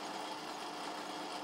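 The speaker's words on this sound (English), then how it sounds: "it's time to drill the holes as can be seen in the video." Drilling stud holes in a model steam engine cylinder casting, a steady, even whir of the drill running continuously at low level, with no pauses or voices.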